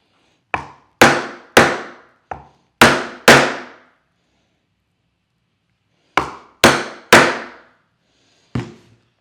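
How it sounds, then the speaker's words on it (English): A leather punch is hammered through a back cinch, giving sharp, close wooden-sounding blows: a quick run of six strikes, a pause of a couple of seconds, then four more, each ringing briefly before it fades. "Now I'm going to move down to my end of my back cinch and get these slots punched out for"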